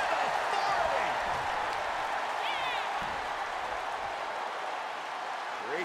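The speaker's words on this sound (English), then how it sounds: "The sound of this crowd is deafening" A large arena crowd at a wrestling event roars and cheers loudly and continuously, a dense wash of voices with occasional whistles cutting through.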